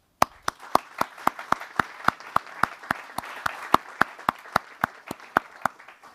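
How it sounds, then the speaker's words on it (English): Audience applause at the 2023 Nobel Prize Symposium, sharp evenly spaced claps in a steady rhythm, close and distinct, ringing over a soft bed of scattered clapping. "A warm congratulations to all of you and a big applaud"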